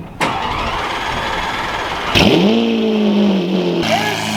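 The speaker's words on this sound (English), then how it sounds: "That is a proper FI exhaust." Lamborghini Aventador with an FI exhaust barks into life with a sharp start burst, rising to a loud, close, steady idle with a slight settling drop near the end.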